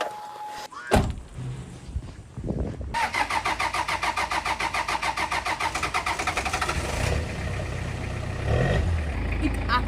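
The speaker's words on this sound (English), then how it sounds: "This engine is powered by fuel made of plastic waste." A diesel car engine running on fuel made from plastic waste cranks and fires up, then settles into a loud, steady idle close by, with a brief knock before the start.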